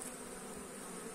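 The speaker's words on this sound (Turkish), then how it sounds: "Hemen oradan arı çıkmaya başladı." Honeybees buzz in a steady, dense drone as they leave through the exits of a pollen trap fitted at the hive entrance. The sound is close and continuous for the whole brief moment.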